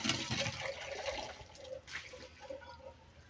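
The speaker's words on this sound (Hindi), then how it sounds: "इतना ज़्यादा माशाल्लाह पानी देता है हमारा नल का" A household tap with strong water pressure runs at full flow, giving a steady, close gushing and splashing that carries on for several seconds with no one talking.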